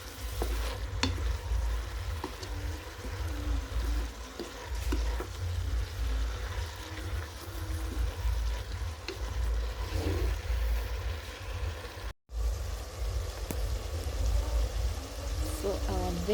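Mixed green vegetables frying in a pan, a steady close sizzle running throughout with occasional stirring scrapes and a brief break partway through.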